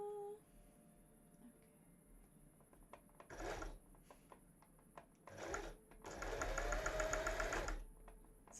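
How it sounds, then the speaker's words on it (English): A fast domestic sewing machine stitching fabric, with several short whirring bursts and then a longer sustained run, close and fairly loud against a quiet room. "It's a very fast machine, so I have to be very careful not to sew too fast."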